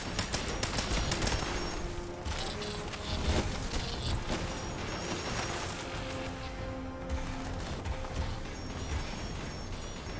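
Rapid gunfire bursts in the Fallout 76 video game, dense and continuous, with shots layered over crashes and mechanical clatter throughout, fairly loud and steady.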